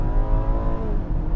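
A 2020 BMW X3 sDrive30i engine hums steadily under acceleration from inside the cabin, a loud, continuous drone with rising harmonic tones and no talk.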